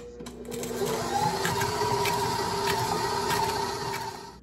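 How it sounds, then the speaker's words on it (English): An electric mixer creams batter for pumpkin snickerdoodle bread on medium speed, giving a close, steady mechanical whir with a faint rhythmic ticking that holds for several seconds before tapering off. "I'm gonna let the mixer run on medium for about 5 to 7 minutes"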